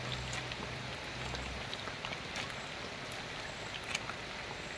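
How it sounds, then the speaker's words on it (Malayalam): Steady rain falls at night during village prawn fishing in Kerala, a continuous even hiss of drops with a few faint taps and no talking. "ഭയങ്കര മഴയല്ലടാ"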